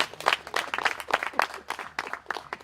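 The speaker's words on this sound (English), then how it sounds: "give her another round of applause, please" Audience applause at a short-course launch event: brisk, steady clapping from a gathered crowd, close and fairly loud, lasting a couple of seconds without speech.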